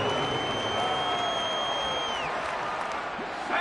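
A stadium crowd in a football video game gives off a steady, dense murmur of cheers and applause. The roar is loud and continuous, with a whistle-like tone sliding across it.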